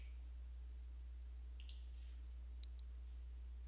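A computer mouse clicks faintly a few times over a steady low background hum, with small sharp ticks spread across a few seconds.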